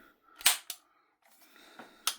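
A VFC FNC gas blowback airsoft rifle is dry fired, giving a few sharp, close mechanical clacks spaced irregularly with quiet handling noise between them.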